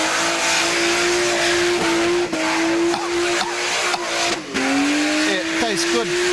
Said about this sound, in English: On the limiter and swinging it big.